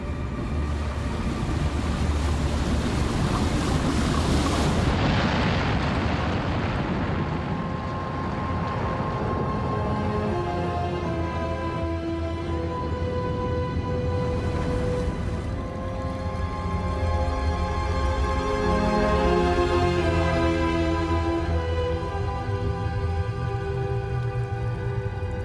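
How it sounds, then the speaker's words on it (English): A vast tsunami wave surging through city streets, a continuous heavy roar of rushing water and wind that stays loud throughout with a deep rumble and shifting tonal hum. "Wave, 100 kilometers long, surges through the streets for hours before it begins to ebb."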